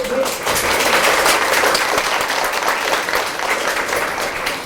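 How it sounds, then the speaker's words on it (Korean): Steady, dense applause from an audience at a talk introducing the Girls Robot organization, filling the whole stretch at an even, loud level with a brief voice near the start. "여러분이 박수 많이 쳐주시고"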